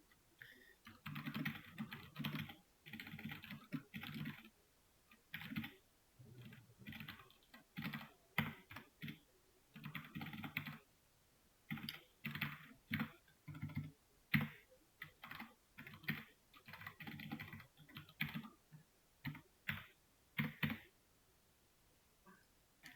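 Code is typed on a computer keyboard during a web development lesson, with steady bursts of close, fast key clicks broken by short pauses, no talking.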